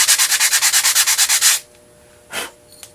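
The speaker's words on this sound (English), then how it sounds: "always sand with the grain" A wooden pumpkin piece is sanded by hand on a sanding block with the grain, a run of about fourteen quick rhythmic scratchy strokes close up, then silence broken by one more brief rub.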